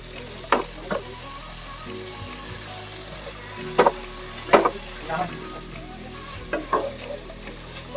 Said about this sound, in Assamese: মাজে মাজে এনেকৈ লৰাব। এতিয়া গেছৰ ফ্লেমটো অকণমান মিডিয়ামত ৰাখিছোঁ।